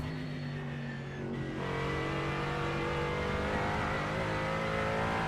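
A GT4 race car engine revving in iRacing, a steady loud droning engine note with harmonic whine that climbs in pitch as it accelerates, continuous and close with no talk.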